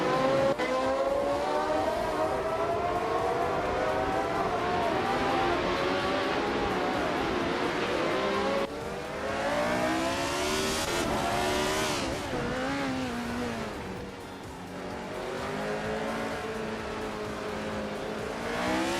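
A 1970 Lotus 72 race car in a racing video game revs and whines loudly, its engine note climbing and dropping through gear changes, with a brief dip as it shifts and other cars droning nearby.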